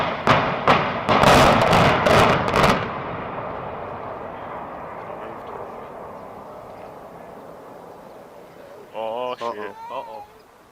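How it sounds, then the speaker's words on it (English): A building demolition charge that proves underpowered goes off as a series of sharp, loud bangs in the first few seconds, then a long fading rumble dies away, with a brief burst of voices near the end. "The explosion, meant to bring it down, was underpowered, resulting only in a loud bang but no collapse"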